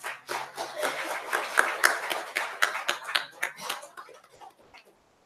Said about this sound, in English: Please give them a roaring applause.